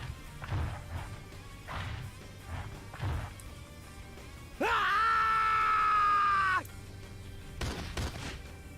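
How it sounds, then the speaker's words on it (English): A man screams during a fight, one loud, strained, sustained yell lasting about two seconds, flanked by scattered thumps and muffled impacts of punches. "As he continued to scream, Ray paneled the other man with a flurry of"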